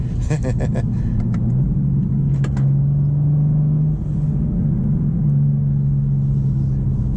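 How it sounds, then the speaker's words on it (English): A BMW M4 CSL cruises on a highway, its engine a steady low droning rumble mixed with constant road and tyre noise, loud and continuous throughout with no voices. "the engine is the dominant characteristic in this car as far as what you hear when you're driving"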